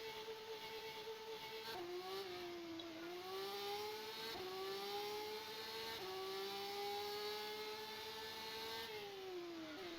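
AI-driven race car in rFactor 2 pulling out of the pit lane and driving on, a steady close engine whine rising through the gears with several distinct shift drops, alone without voices.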